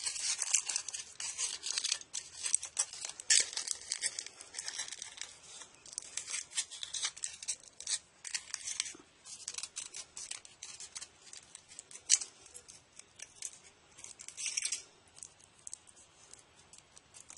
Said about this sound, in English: So I'm just going to take a piece of foil and wrap it around here.